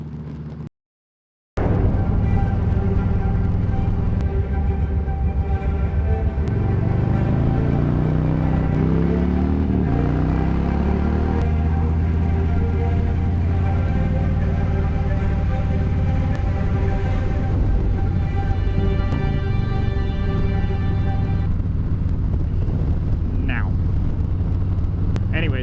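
A motorcycle riding out toward a canyon, its engine a steady, close, droning hum with a shifting pitch, under constant wind roar after a brief dropout at the start.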